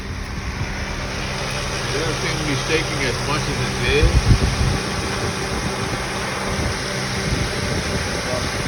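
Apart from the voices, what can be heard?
2005 Acura TL car engine running and idling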